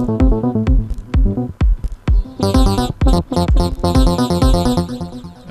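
A Thor synthesizer patch in Reason running through an envelope-controlled filter, playing a loud rhythmic sequence of plucky, percussive notes whose filter sweeps open on each hit, shifting into brighter, buzzier tones partway through, with no voices.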